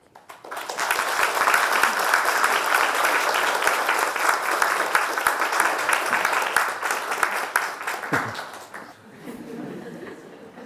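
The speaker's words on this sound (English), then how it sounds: "Another round of applause as I hand the microphone over to Khenpo Sodargye Rinpoche." An audience at a Buddhist talk applauds as the microphone passes to Khenpo Sodargye Rinpoche, a dense steady wash of many hands clapping for about eight seconds before thinning out and fading.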